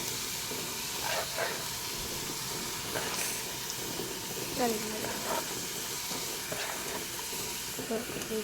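Capsicum, tomato, grated carrot and chilli fry in a pan with a steady close sizzle and hiss, broken by a few sharper stirring scrapes and faint voice-like sounds.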